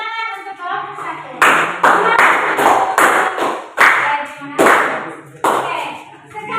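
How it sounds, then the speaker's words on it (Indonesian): Classmates clap for a student group in a classroom lesson, sharp bursts of clapping rising and fading in several waves, with a voice talking in between. "Sekali lagi tepuk tangan untuk kelompok 1"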